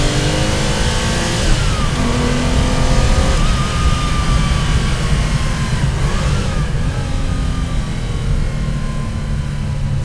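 A 1973 Porsche 911 Carrera 2.7 RS engine pulling hard on a road, revving up through the gears with rising pitch and a brief shift gap, loud and close throughout with no talk.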